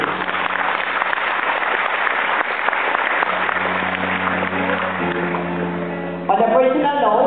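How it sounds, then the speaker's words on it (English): Sustained crowd applause for top dealers at a general assembly meeting fills the room, then a voice begins talking as the clapping gives way near the end. "a round of applause for our top dealers"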